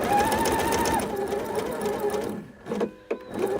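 A sewing machine stitches a quilt seam on a tumbling blocks quilt with a steady, close mechanical whir that slows and stops, followed by a few brief single-stitch bursts.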